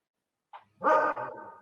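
A house dog gives a short yip and then a single gruff bark close by, indoors.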